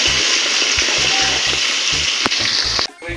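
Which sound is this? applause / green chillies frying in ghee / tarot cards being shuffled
green chillies frying in ghee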